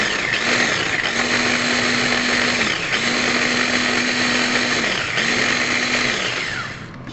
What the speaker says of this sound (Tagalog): So, i-blend natin.